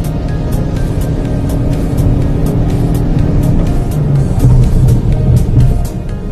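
A Toyota Corolla Hybrid pulling hard with the throttle floored gives a loud, sustained engine roar with a droning low whine that rises slightly toward the end, heard from inside, with no talking.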